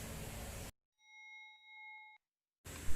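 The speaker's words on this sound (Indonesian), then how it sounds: "Suara atau bunyi bel listrik ini akan terhenti jika saklar dimatikan." An electric bell wired to a switch gives a single faint, sustained ringing tone lasting about a second, alone in a pause of silence between louder background noise.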